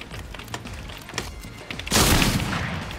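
Gunfire in the video game Fortnite, with scattered sharp shots early on followed by a loud, sustained burst of rapid firing near the end, played without speech.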